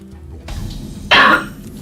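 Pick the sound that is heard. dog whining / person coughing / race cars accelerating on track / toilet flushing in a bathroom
person coughing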